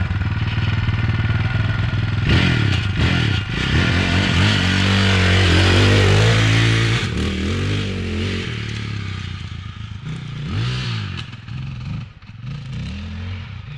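A 620 motorcycle engine runs loud and close, revving and roaring with pitch sweeps, and a slight rattle and scraping clatter sound over the top.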